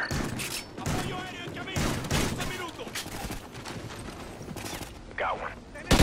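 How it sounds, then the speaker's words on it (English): In the video game Call of Duty Ghosts, bursts of suppressing gunfire crackle and thump amid battlefield noise, while voices talk over the shooting. "They have suppressing fire."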